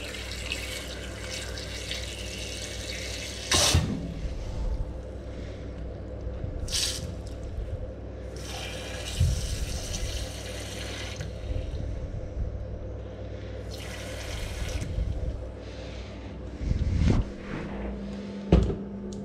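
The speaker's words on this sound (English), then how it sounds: "I think I'm gonna add water at this point" Plain tap water runs into a cooking pot on a home stove in a steady, moderately loud stream, with a few splashier bursts and brief knocks from handling the pot. Nobody speaks.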